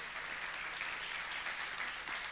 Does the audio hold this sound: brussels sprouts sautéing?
no